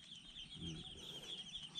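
A few chickens clucking faintly on a farm, set against a steady background hiss, with no talk.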